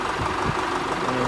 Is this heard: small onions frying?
no